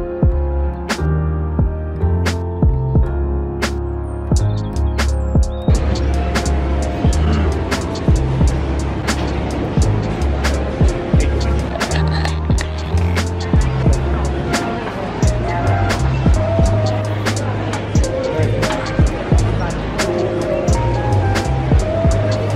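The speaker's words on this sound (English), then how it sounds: "We're in the car now." Car interior driving noise with a steady low road and engine rumble and repeated sharp clicks and bumps, continuous and close, with no talking.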